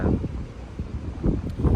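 Strong, gusty sea wind buffets the microphone in low, rumbling bursts that swell and ease, loudest near the start and the end, with no one speaking.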